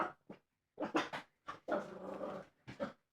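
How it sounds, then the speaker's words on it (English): Puppies growl and whimper in short, close bursts separated by brief silences, with one longer rough, rumbling stretch in the middle. "We have puppies in here?"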